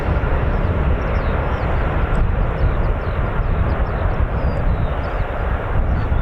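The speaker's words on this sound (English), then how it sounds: "I think we got another KC-135 going out." A KC-135 tanker departs RAF Mildenhall, a steady, loud broadband jet roar that holds evenly throughout, with faint birdsong chirps above it.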